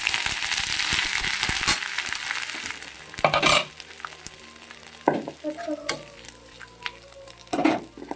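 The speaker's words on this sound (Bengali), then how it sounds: "তো এখন এই যে কুটে রাখা আদাগুলো দিয়ে দিচ্ছি।" Chopped ginger drops into fenugreek frying in a pan, giving a bright sizzle that rises and falls, with scattered sharp crackles and a few scraping stirs; no speech.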